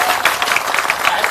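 A crowd at a political election gathering applauding, a dense, fairly loud patter of many hands clapping continuously and close by.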